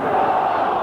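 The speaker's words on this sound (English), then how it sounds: "Appeals for handball, but only by the crowd." A football stadium crowd at a 1983/84 match roars as one in a loud sustained appeal for handball, a dense wall of voices held for the whole moment.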